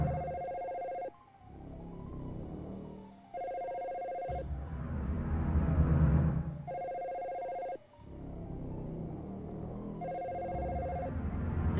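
A telephone rings repeatedly in the video game Dino Crisis on PS3, steady bursts of electronic ringing separated by short pauses over low game ambience.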